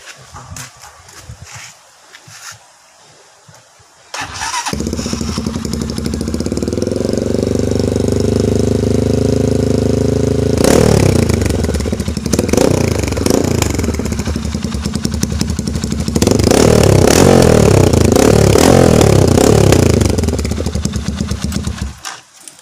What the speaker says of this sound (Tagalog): So sound check tayo ngayon, sound check sa ating tambutso.